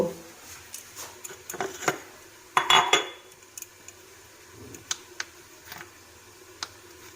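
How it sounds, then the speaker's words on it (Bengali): Mustard greens being lightly fried and stirred in a pan with a utensil: soft scattered clinks and scrapes against the pan, with a brief louder clatter of stirring midway, no talking. "হালকা একটু আমি ভেজে নেব সর্ষে শাকটাকে।"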